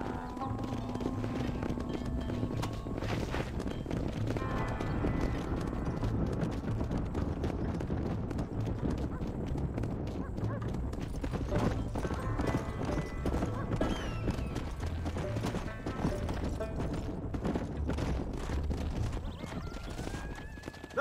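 Horses galloping in the Red Dead Redemption video game, with dense, continuous hoofbeats, occasional neighs and whinnies, and a constant rush of wind throughout.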